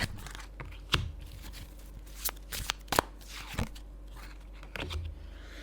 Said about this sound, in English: So I'm also going to pull the cards for your person, okay?